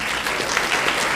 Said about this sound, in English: Thank you for clapping for our soprano sax.